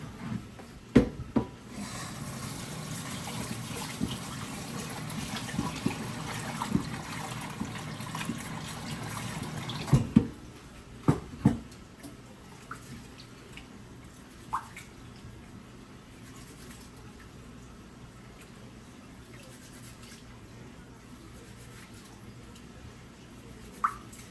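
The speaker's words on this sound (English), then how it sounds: "So, all right, we're gonna wash our rice now" Rice being washed by hand in water, a steady wet rubbing and swishing for about ten seconds with a few sharp knocks, then quieter, sparser handling noises and occasional clinks.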